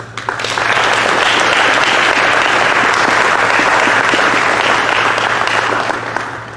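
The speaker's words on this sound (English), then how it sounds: "we want to give a big applause to the teachers for doing their very best for us" An audience at a 2021 graduation ceremony applauds the teachers, a dense and loud wash of clapping that holds steady for several seconds and then starts to thin out at the end.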